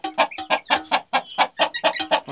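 A rooster clucks repeatedly up close, a rapid run of loud, choppy clucks in an uneven rhythm.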